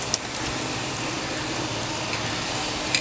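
A tomahawk steak sears on a hot grill, giving a steady, close, even sizzling hiss that holds at the same level throughout, with a couple of faint ticks.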